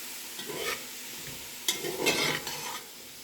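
Metal scraping and stirring against the bottom of a soup pan of sausage, potato and kale, with a sizzling wash behind it; several rough scrapes in bursts, close and fairly loud.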